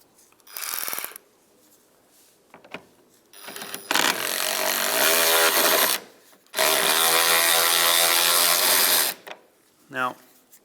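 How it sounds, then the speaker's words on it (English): A ratchet works a T20 screw loose on a 2007-2015 Mazda CX-9 roof rack, with two long bursts of rapid, loud ratcheting clicks plus shorter clicks and handling noise, close up. "we can move to the back and remove that T20 screw."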